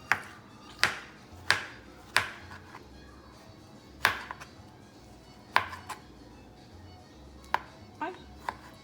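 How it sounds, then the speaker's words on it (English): A knife dices beef on a cutting board for Colombian empanadas, sharp irregular chops ringing out one by one with pauses between, close and distinct over faint background. "we're gonna cut them into small little dices as best as you can"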